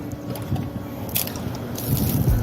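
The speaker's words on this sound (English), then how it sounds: "we're gonna pour the water out" Water pours out of a container during an aquarium water change, making a steady splashing, gurgling wash that grows louder toward the end.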